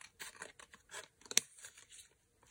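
Scissors snip through leftover paper packaging at close range, a few quiet crisp cuts and crinkles with one sharp snap in the middle.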